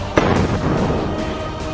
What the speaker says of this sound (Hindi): निशाना साधे हुए बैठा हमास का लड़ाका एक और गोली फायर कर देता है